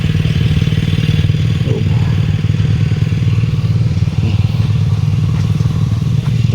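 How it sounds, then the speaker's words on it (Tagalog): A motorcycle engine running close by, a loud steady low chugging idle with rapid regular pulses and light clattering throughout, no talking. "Ito yung motor ko sa dulo."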